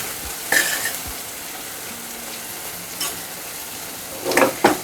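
Asafoetida dropped into hot oil in a pan over lowered gas, a steady sizzle with a few brief clinks and scrapes, close and without talk.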